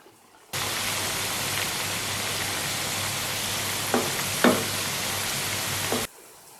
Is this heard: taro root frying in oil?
yes